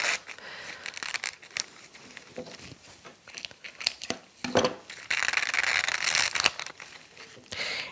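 Crinkly, papery crackles and snips come up close as gold leaf skin is cut and pulled off in a mixed media art piece, uneven bursts of rustling and tearing without talk.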